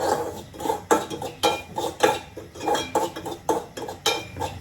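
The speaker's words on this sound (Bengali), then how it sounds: "সুন্দর করে ভেজে নিচ্ছি সুজি" Semolina frying in ghee in a pan and being stirred, with close, rhythmic metallic scrapes and clinks of a spoon against the pan about once per second, with no voices.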